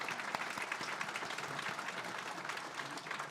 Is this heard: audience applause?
yes